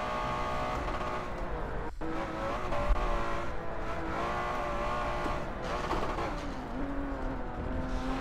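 Race car in a league sim racing game played on a Logitech G920 wheel, with a constant engine drone whose pitch shifts as the car slows and speeds up, plus a brief tire squeal.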